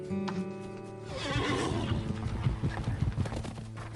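Wild horses whinny sharply, then gallop in with a drumming rush of hooves, the neighing ringing over the pounding as the herd draws near and loud.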